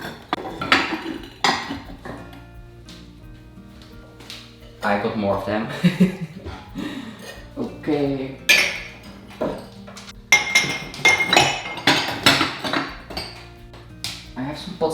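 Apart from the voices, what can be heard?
test balls from pouring videos clinking while being put away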